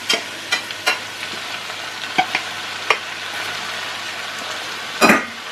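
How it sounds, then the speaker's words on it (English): Button and porcini mushrooms fry in butter for a risotto, a continuous close sizzle punctuated by a few sharp stirring scrapes and taps, with no talking. "You add your button mushrooms and your porcini, or ceps as they like to call them."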